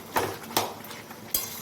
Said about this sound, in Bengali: দিয়ে এবার এটাকে সমানে নাড়াতে থাকবে।